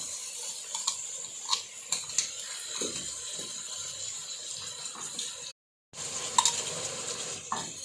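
Mutton with about two tablespoons of garlic-ginger paste sizzles in a pot as it is stirred, giving a steady close hiss with occasional soft scrapes and clicks and one brief break.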